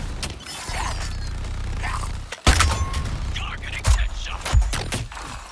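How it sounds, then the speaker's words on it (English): A weapon reloads in Suicide Squad: Kill the Justice League amid combat, with mechanical clicks and creaks, a sudden loud bang and later booming impacts, all under a voice talking. "Oh, I'm still reloading."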